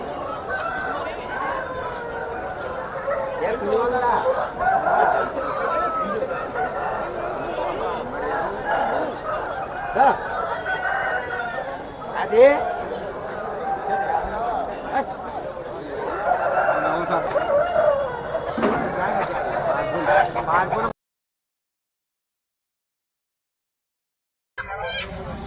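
Chickens crow and cluck at the Gokavaram weekly market, with repeated calls over a busy crowd murmur and nearby voices talking, then a short silent gap near the end.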